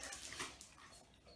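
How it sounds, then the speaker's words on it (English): Very faint, thin whimpering from a Dogo Argentino puppy, a soft high whine drawn out over a little more than a second at a distance, with no talk. "That's Mrs. making sad puppy noises."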